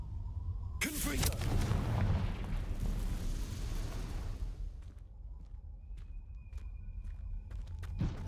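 Fire spell blasts cast in the Hogwarts Legacy video game, a loud rumbling burst of explosive noise lasting a few seconds, then fading into scattered sharp crackles and small impacts.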